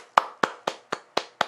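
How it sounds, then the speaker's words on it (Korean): Six sharp hand claps sound in an even rhythm, close and crisp against near silence. "여기서 박수 한번 치고 가겠습니다."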